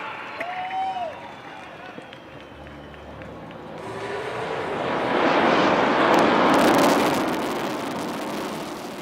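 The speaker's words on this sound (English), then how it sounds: "ஸ்லோவா பொறுமையா அழகா மெதுவா உங்கள் முன்னால் Su-30 MKI." A Su-30 MKI fighter jet passes over the Chennai Marina beach air show, its engine roar swelling from faint to a loud broad rush near the middle and then easing off, with crowd noise and talk beneath.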